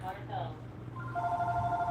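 A telephone rings in a model railroad workshop, a soft electronic tonal trill starting midway, with a quiet voice and low hum underneath.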